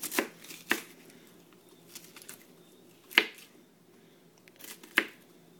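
Onion chopped into thick chunks with a large M4 Military knife: a handful of sharp, sparse blade strikes on a board, near and fairly quiet, spaced irregularly with low room noise between.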